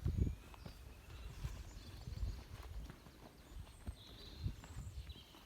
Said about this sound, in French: je peux amener mon cheval au milieu du manège